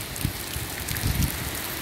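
Rain falling in the Tocantins backlands on a hot day, a dense steady hiss of downpour with soft low patters of drops hitting surfaces nearby.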